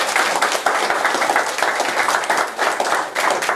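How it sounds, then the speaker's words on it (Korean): A lecture audience breaks into loud, close applause, a dense and continuous patter of many hands clapping for several seconds with no pause. "여러분 박수 부탁드립니다."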